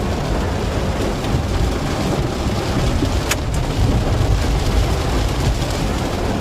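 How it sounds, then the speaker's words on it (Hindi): Heavy rain pours steadily at dusk outside a small shop, a dense continuous roar with low rumbling thunder and one brief sharp crack midway; no voices. "अभी जोरों से बिजलियां भी कड़क रही है और एकदम बादल भी जोर जोर से गरज रहे थे।"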